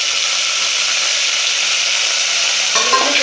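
Three finely chopped onions drop into hot oil and fry, giving a loud, steady, close-up sizzle that holds for the whole stretch, with a slight rustle of stirring near the end and no talking.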